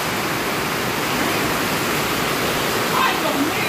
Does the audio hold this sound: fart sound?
no